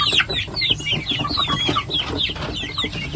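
Native chickens cluck and chirp close by in quick, overlapping bursts, a lively flock chattering continuously over a low background hum.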